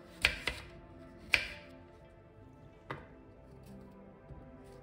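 A knife cuts food into quarters on a cutting board in a few sharp, separate taps, quiet and close, with pauses between cuts.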